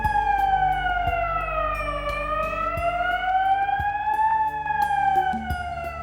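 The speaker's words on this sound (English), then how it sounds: "There is also a wailing alarm to alert you if you need to take shelter." A loud electronic take-shelter siren wails at a factory, its pitch sliding slowly down and then back up in a long continuous tone.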